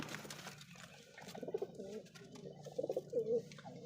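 Pigeons give soft, low throaty coos in short bursts while being handled, close by and fairly quiet against light background noise.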